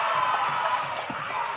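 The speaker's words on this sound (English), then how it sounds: "The crowd coming alive here at the Hotpoint Davis Arena for J3." A wrestling crowd at the Hotpoint Davis Arena during an OVW show roars as a steady, dense wall of cheering that fills the whole moment without clear breaks.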